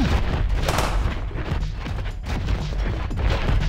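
Several sniper rifle shots crack out in the strategy game Lambda Wars, heard as a dense, loud barrage of overlapping gunfire and impacts.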